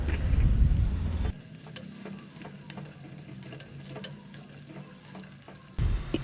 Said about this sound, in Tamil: இப்போ இந்த முள்ளங்கியை நம்ம இந்த எண்ணெயிலே நல்லா வதக்கிக்கலாம்